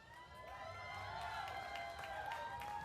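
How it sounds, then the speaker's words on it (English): Crowd applause and cheering from a cheering section at a state fair FFA event, a steady wash of clapping and voices at moderate distance, continuous throughout. "Looks like they've got a cheering section"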